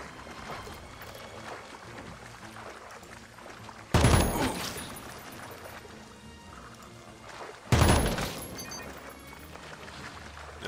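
Two heavy gunshots from Jagged Alliance 3 burst out several seconds apart over a low, rumbling ambient bed, each a loud sharp crack that fades quickly.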